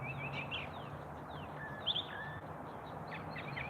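Mockingbird cycling through imitations of different bird calls, faint chirps and whistled phrases repeating in short bursts over a low outdoor background hum, heard alone without talk.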